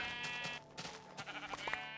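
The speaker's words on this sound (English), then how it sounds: "Brown sheep." Brown sheep bleating in Minecraft Beta 1.7.3: a couple of short nasal bleats over steady game ambience, fairly close and moderately loud.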